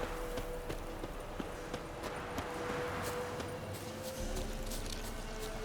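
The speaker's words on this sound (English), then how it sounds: "Why are you running away from me, you daft horse?" Horse hooves run in The Witcher 3: Wild Hunt on Xbox One, a faint, irregular clip-clop of hoofbeats set against steady game background ambience, with no talking.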